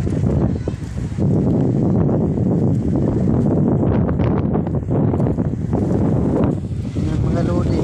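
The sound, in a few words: strong wind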